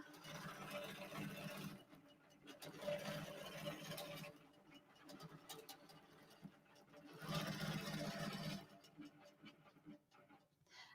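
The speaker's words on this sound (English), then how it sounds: "I find myself standing and staring at the machine while it's stitching" Embroidery sewing machine stitching out a design, whirring in long steady runs that pause and restart, fairly quiet and close.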